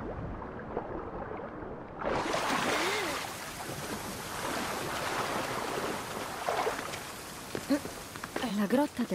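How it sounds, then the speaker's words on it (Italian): A waterfall in the video game Assassin's Creed Odyssey gives a steady broadband rush of falling water, loud and continuous, with a person talking faintly over it. "Ecco la cascata."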